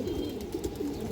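A one-year-old female pigeon with a boot beak gives soft, low cooing in a short, faint, throaty burble close by.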